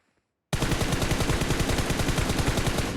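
Sustained automatic gunfire from the video game PUBG Mobile, loud and close, a steady rapid stream of shots starting abruptly after a short silence and running without pause.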